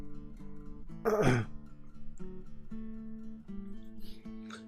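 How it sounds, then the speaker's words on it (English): A short burst of coughing or throat clearing at close range, about a second long, rising over steady background music. "I got a bit of a cough there"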